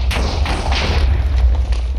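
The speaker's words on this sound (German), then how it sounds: "irgendwie explodiert das alles" Deep booming thuds from explosions in the video game Minecraft, exploring new Nether biomes, roll as a dense low rumble with a few sharper blasts layered on top, loud and continuous throughout.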